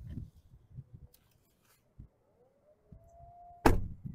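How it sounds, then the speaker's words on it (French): Electric door of a luxury electric chauffeur car closing automatically outdoors, a rising motor whine ending in a sharp, loud thud as it shuts, after quiet low rumble. "porte électrique."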